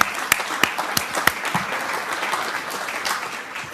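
Applause at a senior sports awards ceremony for graduating athletes, with a crowd clapping steadily and several sharp, distinct claps standing out early on.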